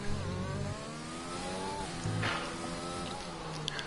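Race car engine in a racing video game, Spain round, driven with no assists, accelerating hard at full throttle through the gears, with steady rising harmonic engine whine and brief shifts, loud and alone.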